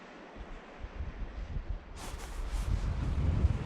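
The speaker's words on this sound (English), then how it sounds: "The wind's drastically picked up." Strong wind on a Northumberland shore at low water, roaring steadily into the microphone with a hissing rush midway, like surf or a gust, and a louder buffeting toward the end.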